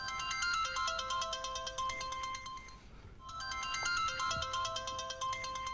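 A mobile phone rings with an incoming call, a bright repeating electronic ringtone melody that plays loudly and steadily, breaks off briefly near the middle, then resumes, with no one speaking.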